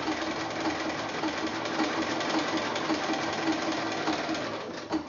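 Sewing machine running steadily while stitching appliqué around a tree trunk on a meadow quilt, a continuous close mechanical whir that holds unbroken for about five seconds.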